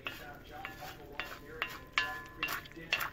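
Butter sizzles softly in a pan at a breakfast cook while a utensil stirs, scraping and clinking against the pan in irregular strokes, quiet and close.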